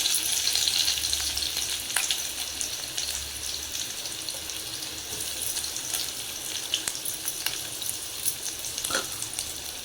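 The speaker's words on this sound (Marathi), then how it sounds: "हा चिरलेला कांदा टाकूया आपण तेल चांगलंच तापलेलं आहे" Chopped onion fries in well-heated oil, a steady broad sizzling hiss with faint scattered crackles, close but moderately quiet and continuous throughout, with no talking.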